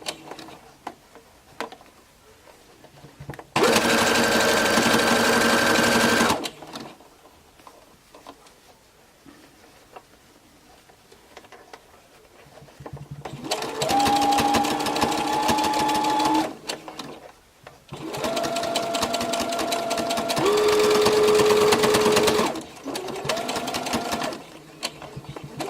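A sewing machine stitching fabric strips for a flower brooch runs in loud bursts of rapid, steady whirring: one burst of about three seconds, then two longer runs separated by short pauses and quiet handling noises.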